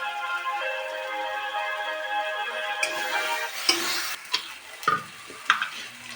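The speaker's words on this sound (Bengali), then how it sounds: "মশলা ভাজা হয়ে গেছে" Spices frying in a pan sizzle steadily at close range as music fades out, followed by several sharp clinks and scrapes of a spoon stirring against the pan.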